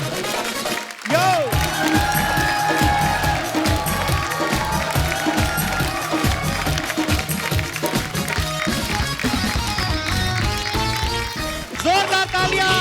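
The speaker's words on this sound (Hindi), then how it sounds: "जोरदार तालियां अर्चना मैम और प्रमीत सर के लिए।" Studio audience on a TV comedy show breaks into loud, sustained applause and cheering after a brief pause, a continuous dense roar of clapping mixed with music and occasional voices running to the end.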